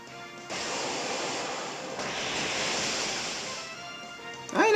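A Pokémon uses the Waterfall attack in Pokémon Omega Ruby, heard as a sustained rushing, crashing water roar that swells twice and ends with a short rising tone.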